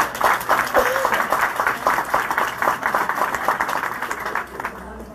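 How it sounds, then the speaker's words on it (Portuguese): Audience applause at a political organizing meeting for the Lula Livre campaign, a steady wash of many hands clapping that holds for several seconds and tapers off at the end. "um aplauso para o Coletivo Alvorada"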